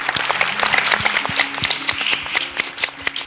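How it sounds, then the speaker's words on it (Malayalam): An audience at a televised singing show applauds the orchestra musicians on stage with dense, sustained clapping at close range, steady and loud, with a low instrumental hum underneath. "നിങ്ങൾ എല്ലാവരും ഈ ഓർക്കസ്ട്രയിൽ ഇരിക്കുന്ന അങ്കിൾസിന് എല്ലാവർക്കും ഒരു കൈയടി കൊടുത്തേ"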